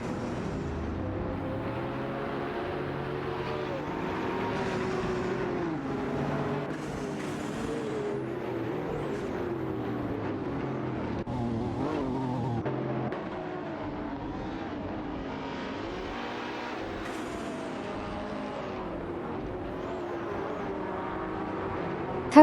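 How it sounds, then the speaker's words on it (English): Racing cars in an AI racing video game, a continuous engine drone with rising and falling pitch as cars speed past, steady and moderately loud throughout. "Automobile dashing away."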